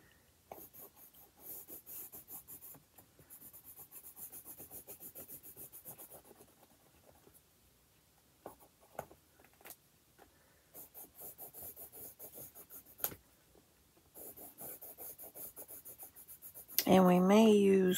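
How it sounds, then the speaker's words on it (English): Soft scratchy rasping of a pencil moving across paper in short strokes, close by, fairly quiet, ending with a louder tonal sound. "Colored pencils for the stems."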